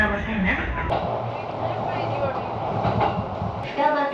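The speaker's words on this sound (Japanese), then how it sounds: "接続の電車に乗り換え、青梅駅を発車します。" A train departing Ome Station rolls steadily with a low rumble and faint rail clatter, heard from inside while a voice talks over it.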